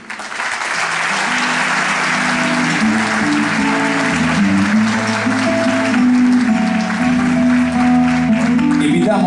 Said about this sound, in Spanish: vamos a pedir un aplauso fuerte por ellos